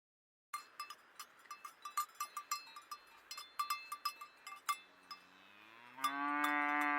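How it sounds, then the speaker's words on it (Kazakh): In a children's cartoon, a quick run of cowbell clanks gives way to a long, drawn-out cow moo that rises at the end. The sounds are clear and close, with no talk. "Бұл сиыр."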